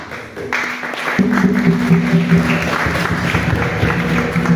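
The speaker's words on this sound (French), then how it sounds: "Pourquoi vous applaudissez de manière..." Applause from a church congregation at a Sunday service of the Evangelical Church of Cameroon fills the hall as a broad, steady wash of clapping, with a low sustained tone running underneath.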